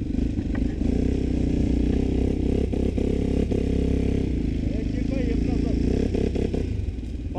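A quad bike pulls away in low gear on rough off-road ground, its engine droning loud and steady up close, with clatter from the machine and brief voices nearby.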